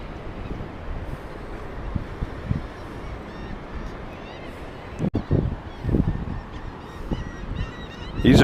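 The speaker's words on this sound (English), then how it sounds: "These are squawky little birds." Squawking seabirds on a beach along the Cajun Riviera, where thousands gather with pelicans nearby, calling in scattered honking bursts over steady wind noise, louder toward the end.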